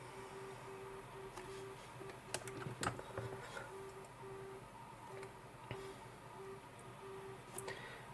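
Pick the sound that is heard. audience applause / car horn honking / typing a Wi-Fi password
typing a Wi-Fi password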